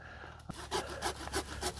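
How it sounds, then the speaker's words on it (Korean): A hand saw cuts through a pine bonsai branch with steady back-and-forth rasping strokes, close and fairly loud, each stroke pulsing in an even rhythm. "이렇게 해서 톱질이 어느 정도 좀 됐고요"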